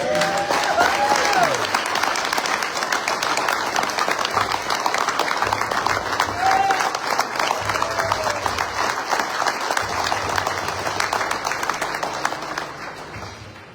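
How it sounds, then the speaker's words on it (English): Audience at a 2025 IPS conference applauds steadily and at close range for over ten seconds, a dense even clapping that fades slightly at the end. "Give it a little round of applause."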